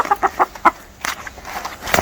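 A hen infested with feather mites clucks in a series of short, close, fairly loud bursts, followed by a few softer murmuring clucks; no one speaks.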